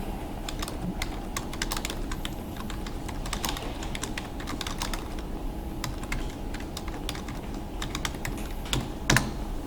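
Rapid, continuous key clicks of someone typing a command on a computer keyboard in a terminal, close and steady, with a low hum beneath.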